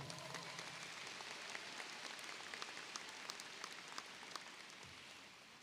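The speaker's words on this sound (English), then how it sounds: "Let's give them a round of applause." An audience claps at the Wando High School 2023 commencement ceremony, a faint, distant, continuous patter of many hands that holds steady throughout and tapers a little at the end.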